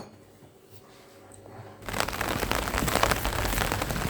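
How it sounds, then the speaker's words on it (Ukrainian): Quiet room tone gives way abruptly to steady, dense rain pattering loudly on a surface, continuing without pause. "Цілий день дощ є. Цілий день є дощ. І зараз також."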